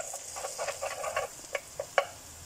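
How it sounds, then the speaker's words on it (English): Butter melting in a pan for Nongshim Soon Veggie ramyun, a faint crackling sizzle with scattered small pops and spits, quieter toward the end. "oh no, the butter has melted. There goes the butter."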